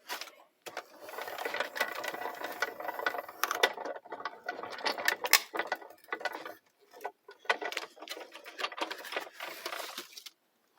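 A Big Shot die-cutting machine cranks recycled box cardboard through its rollers, giving a close, continuous run of ratcheting mechanical clicks and grinding with short pauses between turns.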